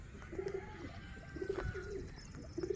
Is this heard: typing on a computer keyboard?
no